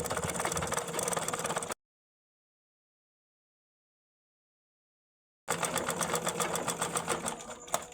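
A sewing machine stitches small pleated plates into a handmade latkan tassel, running in two steady whirring bursts split by a few seconds of silence, close and fairly loud.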